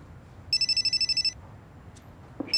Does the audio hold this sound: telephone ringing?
yes